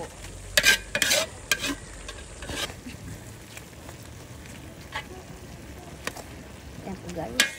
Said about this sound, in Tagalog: haluin na po natin kasi ano, medyo luto na po yung kalabasa